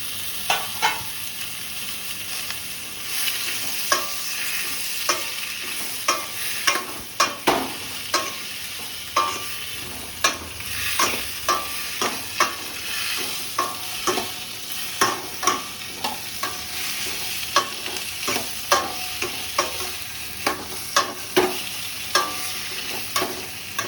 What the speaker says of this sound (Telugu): ఇప్పుడు ఆనియన్స్, టమాటా ఫ్రై చేసుకున్నాం ఫ్రెండ్స్.